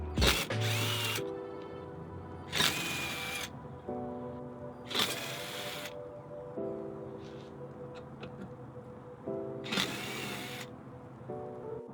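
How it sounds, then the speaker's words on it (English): A ratcheting socket wrench with a 10mm socket backs bolts off a metal bumper bracket on a Mitsubishi Evo X, loud bursts of rapid ratchet clicking repeating about four times with mechanical pauses between. "we're just gonna go ahead and remove the metal bracket with a 10mm socket"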